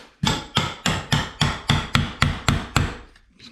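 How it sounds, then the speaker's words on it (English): An old chisel struck by a hammer to cut away material beside a tub motor housing during tub deck construction: about ten sharp metallic blows at a steady rhythm, loud and close, with no talking. "So I'm going to take that off with an old chisel."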